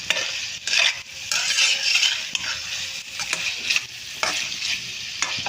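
Salt being stirred into macaroni frying in a pan with vegetables and chicken: a steady sizzle runs throughout, with a spoon scraping and clinking against the pan in an uneven rhythm, close and fairly loud, with no talking.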